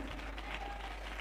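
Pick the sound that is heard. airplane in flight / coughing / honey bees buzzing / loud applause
loud applause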